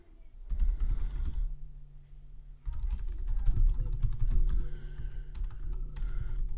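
Keys tapping on a computer keyboard as an account name and password are typed, a quick irregular patter of clicks close by with a short pause near the start.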